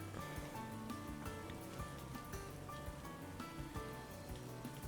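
Rain falls steadily in the Atelier Yumia video game, a soft, even patter with scattered drop ticks, faint and continuous with no voices.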